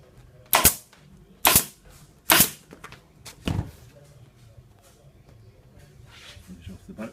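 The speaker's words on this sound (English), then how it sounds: "putting a few more staples in. Staple every inch or so." Staple gun fastening a motocross seat cover, firing four sharp, loud snaps about a second apart, followed by quieter handling and talk.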